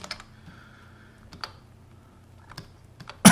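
Keyboard shortcut presses during 3D modeling work: a few sparse, light clicks and taps spread over a few seconds, fairly close, with a louder burst at the very end and no talking.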